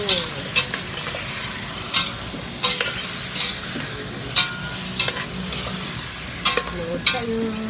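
Food frying in a pan while being stirred, with a steady sizzle underneath and repeated scraping strokes of the utensil against the pan at irregular intervals.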